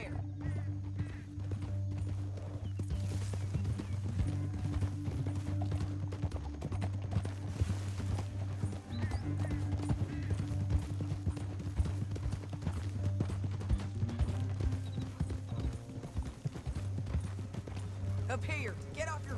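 Horse hooves clip-clop in a quick galloping rhythm in Red Dead Redemption 2 over a low rumbling background, with occasional voices talking over the steady hoofbeats.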